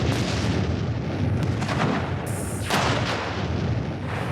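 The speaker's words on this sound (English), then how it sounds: "The rig has been decimated by the dynamite." A 50-pound dynamite charge detonates on a tetrahedron-shaped rig, producing a loud, sustained broadband roar and rumble that fills the whole clip, with a sharper crackling burst midway.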